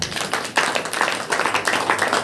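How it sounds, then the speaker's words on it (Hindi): A church congregation claps hands together at a Saturday prayer meeting, a dense, fairly loud patter of overlapping claps rising after a brief pause and continuing steadily. "ताली बजाकर"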